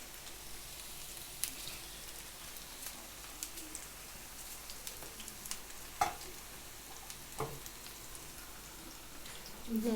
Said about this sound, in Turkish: Bunları bu şekilde kızartıyoruz.